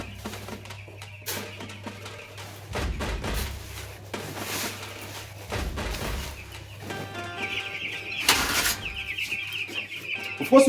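Chickens on a poultry farm cluck and squawk at feeding time, a busy flock chattering continuously at close range, with a louder burst of calls near the end and a low steady hum beneath.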